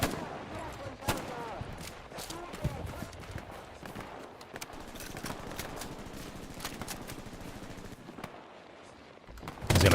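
Machine gun fire in the Hell Let Loose video game during a championship match, with rapid bursts of shots and scattered distant gunfire running throughout, mixed with game noise.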